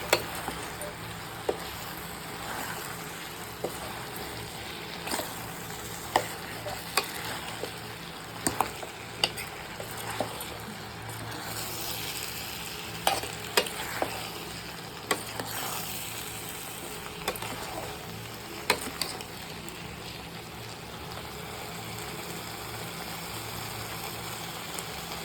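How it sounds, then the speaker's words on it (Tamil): Vegetables sautéing slowly on a low simmering flame in a pan for prawn curry, a soft continuous sizzle punctuated by scattered scraping clicks of a spoon stirring the pot. "சிம்மரில் தான் போட்டு நான் வதக்க போகிறேன்."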